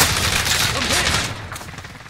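Rapid automatic gunfire in the shooter game Call of Duty: Warzone, a dense, loud continuous burst filling the whole moment, with a voice faintly underneath.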